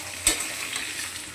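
Salted food is stirred as it fries in a pan: one scraping stroke near the start, then a soft steady sizzle, close and fairly quiet.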